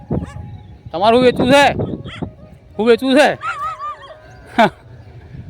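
Dogs in a farm field bark and yip in short bursts, fairly close and loud, trading with a voice speaking between the barks.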